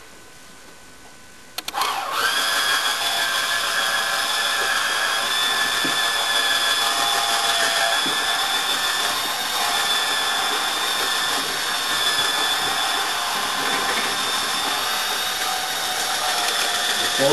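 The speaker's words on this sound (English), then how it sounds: "Take our mixer." A mixer for the coating on a foam school mascot statue starts after a short quiet moment and then runs at a steady high whine, loud and close, for the rest of the clip.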